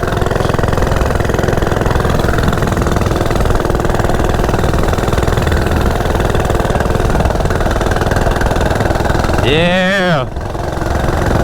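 A Coleman CT100U minibike engine with its governor removed drones loud and close at high speed, a constant buzzing roar, and near the end a voice shouts over it.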